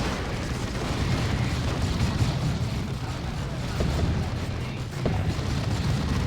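Assault cannons fire and explosions boom in a Dawn of War 2 battle, forming a continuous dense rumble of distant blasts with a few sharper thuds near the end.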